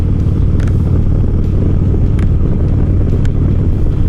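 Steady, loud wind roar buffeting a Biltwell Gringo motorcycle helmet with its vents open while riding, a dense low rumble with engine drone underneath and no speech.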